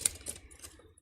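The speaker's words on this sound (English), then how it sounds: "Let me just actually give it one more shuffle because deck feels a little stagnant still." A tarot card deck is shuffled by hand in a string of crisp, clicky riffles and taps, close and fairly quiet, with no one talking.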